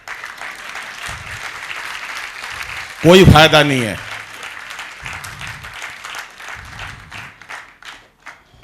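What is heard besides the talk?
audience clapping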